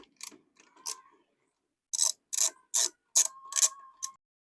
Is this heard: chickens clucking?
no